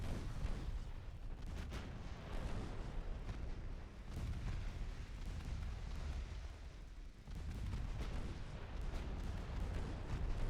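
Warship naval guns booming in the naval combat game Ultimate Admiral Dreadnoughts, a dense, continuous barrage of heavy rumbling blasts with rolling low-end thunder, loud and sustained with no talking.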